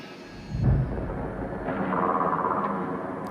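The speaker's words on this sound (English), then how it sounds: "That is the sound of a shredder." Shredder enemy from the video game ARC Raiders, heard in a trailer: a low rumbling burst swells in and then settles into a sustained grinding, whirring mechanical drone, fairly loud and steady, with no voices.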